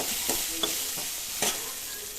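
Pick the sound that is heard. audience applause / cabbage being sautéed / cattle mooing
cabbage being sautéed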